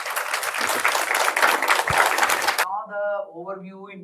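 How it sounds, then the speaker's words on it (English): An audience at an academic lecture event gives applause for a professor, a dense clapping burst lasting a few seconds before cutting off, after which a voice speaks briefly. "Can I please have a huge round of applause for Professor Jayaraman sir?"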